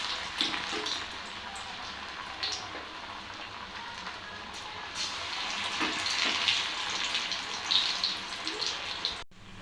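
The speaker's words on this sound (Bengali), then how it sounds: "এবার আমি পকোড়াগুলো মিডিয়াম ফ্লেমে ভেজে নিচ্ছি।" Helencha leaf pakoras deep-fry in hot oil over a medium flame, giving a continuous, moderately loud bubbling hiss with light crackles that swells slightly and ends abruptly.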